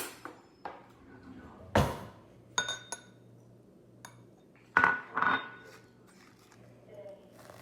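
Metal knife and dishes clinking while a knife is fetched in a home kitchen during toast-and-jam prep: scattered sharp clinks and rattles, with two louder clatters standing out against quiet background.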